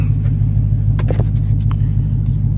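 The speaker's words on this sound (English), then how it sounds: "let's go ahead and pull the car out, take this thing for a quick drive" Deep, loud idle rumble of a Dodge Hellcat Challenger engine as the car is pulled out at night, steady low throb with a few brief clicks and rattles on top.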